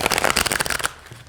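Tarot cards from a new Star Spinner deck being shuffled by hand, a dense burst of crisp riffling flutter lasting under a second, close and fairly loud, then quiet.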